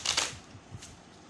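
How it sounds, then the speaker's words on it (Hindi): Tarot cards being shuffled give two quick papery riffles followed by a few softer flicks, close and quiet, with no speech. "कार्ड्स मिक्स ही नहीं हो रहे हैं।"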